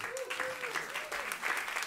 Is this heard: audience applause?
yes